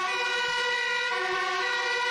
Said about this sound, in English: A very loud siren.